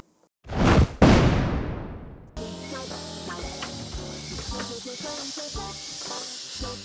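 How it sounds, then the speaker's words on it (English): Compressed air bursts out of the leaking slide valve of a 3D-printed opposed-piston engine in a loud, sharp hiss that fades over a second or two, then gives way to a quieter background with clicks and faint knocks. "air is just leaking out all around these gaps in the valve"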